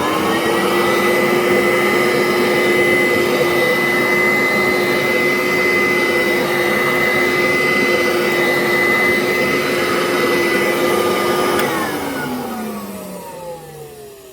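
A restored vintage upright vacuum cleaner with a rubber-band brush roll runs loud and steady, its whining motor humming with strong harmonics, blowing dust out before spinning down near the end.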